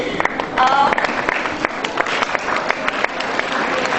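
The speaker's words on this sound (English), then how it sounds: "the claps are from student side this time" Students at an annual appreciation day ceremony clap together in a sustained round of applause, with sharp individual claps standing out and some voices mixed in.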